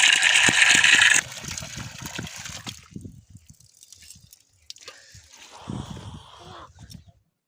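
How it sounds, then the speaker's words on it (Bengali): Water pours onto chili seedlings in a village garden, first as a loud, steady gushing splash for about a second, then softer trickles and sloshing after a pause, close by. "বাগানে চলে এসেছি লঙ্কার চারাতে জল দিতে"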